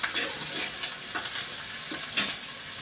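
Chopped onion and green chilli sautéed and stirred in a pan over a large gas flame while cooking a Marathi-style bhaji, giving a steady close sizzle with periodic scraping stirs and faint water sounds.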